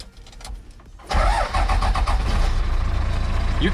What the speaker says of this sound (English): You can start the engine perfectly fine without the keys in it.